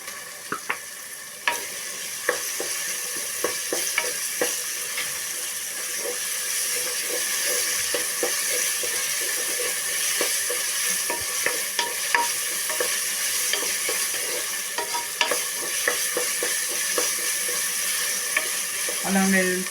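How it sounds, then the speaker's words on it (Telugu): Ginger garlic paste fries in a pan with tomatoes while being stirred, giving a steady close sizzle and hiss broken by frequent sharp scrapes and taps of the spoon. "అల్లం వెల్లుల్లిపాయ పేస్ట్ కొంచెం పచ్చివాసన పోయే వరకు కొంచెం ఇలా వేపుకుంటే"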